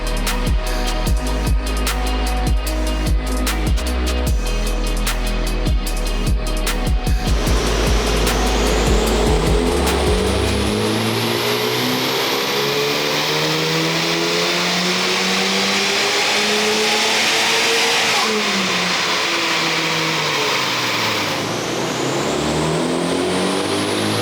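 A Honda Civic Type R FL5 on its stock intake idles with a deep rumble and ticking, then climbs through long rising revs that sweep up and fall back several times, loud and close with no voices.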